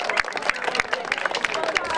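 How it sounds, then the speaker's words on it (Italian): Crowd at an outdoor athletics event applauds a participant named Pietro, steady dense clapping with distinct individual claps standing out, close and lively, with voices murmuring underneath. "facciamo un applauso a Pietro"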